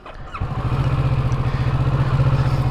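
A Kawasaki Ninja 650 motorcycle engine fires up after a brief moment of quiet, then settles into a loud, close, evenly pulsing idle with no one talking.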